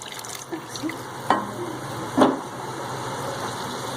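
Water goes into a pot of cooking chana dal and a spoon stirs it, with a low simmering hiss and a couple of sharp clinks of the utensil against the pot.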